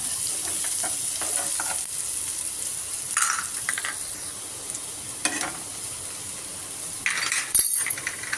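Onions sautéing in a pan for chana dal adai, soft frying sizzle broken by several close scraping stirs and a sharp metallic clink near the end.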